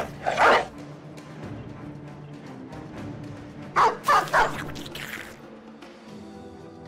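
Game dog from Battle Brothers lets out a short cluster of three or four barks at mid-distance, followed by an earlier single bark, all over a steady low battle ambience with no talking.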